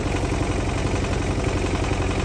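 A tractor engine drones loud and steady as it strains to pull out a tree stump, a dense rumbling roar with no letup across the whole stretch.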